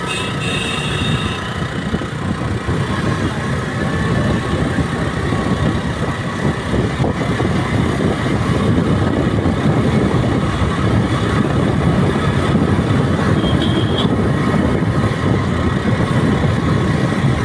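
A steady, loud engine drone with rushing road and wind noise, continuous throughout like riding a motorized two-wheeler.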